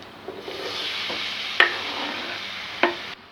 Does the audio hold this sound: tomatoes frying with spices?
yes